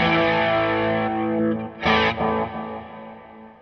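Distorted electric guitar notes from an 80s rock rig ring out with repeating analog delay echoes trailing behind them, a short phrase that sustains and then fades.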